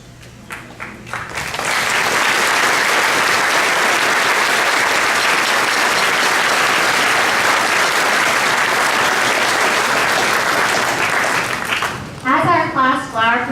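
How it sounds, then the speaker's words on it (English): A high school graduation audience for the class of 2018 breaks into loud, sustained applause that swells and fills the hall for about ten seconds, then fades as a voice comes in at the end. "would everyone please join me in one more round of applause for our band and choir, our speaker today, and most importantly, the class of 2018"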